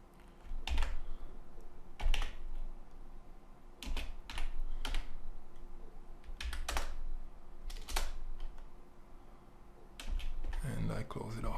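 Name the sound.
typing code on a computer keyboard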